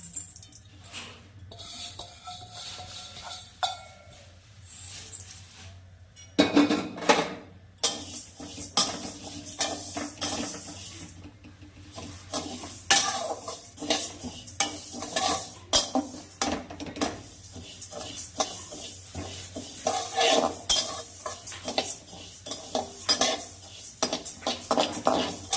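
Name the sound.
moong dal being dry-roasted and stirred in a pan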